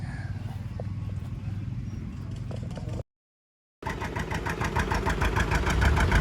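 A two-cylinder John Deere 720 diesel tractor engine chugs steadily with a low, uneven putter, briefly cut to silence, then returns louder and closer with a rhythmic knocking beat.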